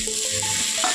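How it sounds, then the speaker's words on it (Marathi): Tomatoes stirred into fried onions in a pan, giving a steady, close sizzle for a brief moment with no talking. "त्यामध्ये आता आपण टोमॅटो मिक्स करून घेऊया"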